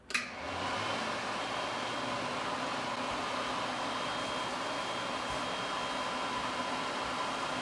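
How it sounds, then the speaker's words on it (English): A hand dryer in a movie scene blows a steady, loud rushing stream of air that starts abruptly and continues unbroken, with no voices. "she gets under what I can only consider the highest hand dryer in cinematic history"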